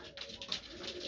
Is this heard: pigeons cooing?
yes